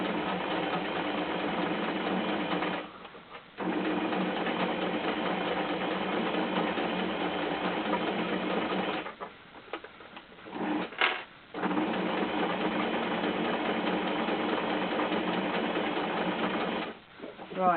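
A sewing machine stitching fabric for an Easter bunny runs in long steady whirring bursts, close and loud, with a few short pauses as the work is turned; no speech over the motor.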